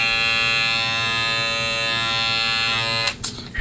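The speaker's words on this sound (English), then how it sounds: "that is the unboxing of the SnapFX clipper" A BabylissPro SnapFX hair clipper runs with a steady, close electric buzz full of bright harmonics. It cuts off abruptly near the end with a short handling clatter.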